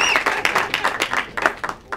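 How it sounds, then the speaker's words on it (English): Panel audience clapping for themselves at an evening event, a short burst of distinct, fairly close claps from a small crowd, loud and uneven, fading toward the end. "so a round of applause for yourselves"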